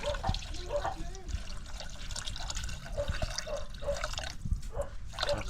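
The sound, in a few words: water poured into cooking pot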